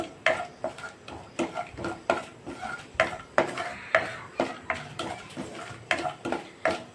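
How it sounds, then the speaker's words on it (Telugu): Whole spices frying in a pan for mushroom curry, with a steady run of sharp metallic scrapes and clinks from a spoon stirring roughly twice a second over a faint sizzle, close and clear, with no talking. "ఇది కొంచెం వేడెక్కాలి, బాగా కొంచెం వేగాలి మసాలా దినుసులు అనేది."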